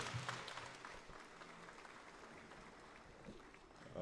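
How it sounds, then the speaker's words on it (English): Applause for the Bank of Zambia Choir at the official launch of Zambia's new currency family: a soft, distant patter of clapping from an audience, continuous and fairly faint, swelling slightly at the end. "I think the Bank of Zambia Choir deserves a bigger round of applause."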